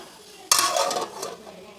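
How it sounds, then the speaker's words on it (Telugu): A metal lid clanks down sharply onto a pot of cooking tomato and drumstick curry, followed by a brief rattle and soft clatter as it settles. "ఇప్పుడు మూత పెట్టి టమాటో ముక్కల్ని ములక్కాయ ముక్కల్ని ఉడికించుకుందాం"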